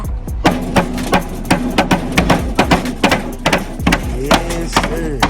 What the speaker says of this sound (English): Y'all gonna hammer it down a little bit more?